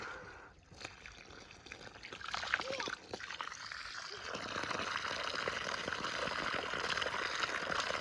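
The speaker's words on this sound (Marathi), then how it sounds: "गार पाणी विहिरीचं" Cold well water running from a pipe onto freshly planted saplings in black soil and fertilizer, a soft, steady trickle and splash that continues throughout under people talking.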